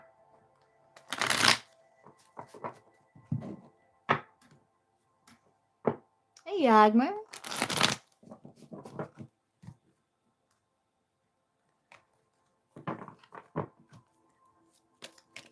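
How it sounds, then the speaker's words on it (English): Tarot cards are shuffled in several quick riffling bursts, close and crisp, with a short whirring bridge in the middle and quiet pauses between them, while a person speaks briefly. "Let's give them a little shuffle here."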